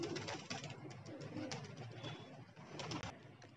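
Pigeons take off on their first flight of the day, giving a steady, dense wash of cooing and wing flutter that stays fairly close and continuous throughout, with no talking.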